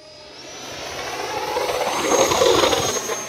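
An Arrows F-86 Sabre 64mm electric ducted-fan RC jet taking off with flaps deployed, its whining fan rising steadily in pitch and loudness as it accelerates away, heard alone outdoors.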